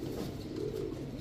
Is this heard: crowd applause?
no